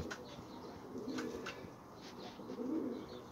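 Pigeons coo softly in repeated low bursts, with faint wing flaps and other bird sounds in a quiet outdoor setting on a hot day.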